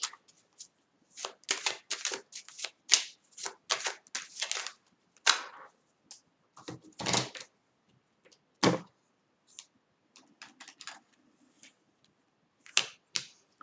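Oracle cards are shuffled and drawn by hand, producing a close run of quick, papery riffling snaps that thins into sparse flicks and taps, with no talking.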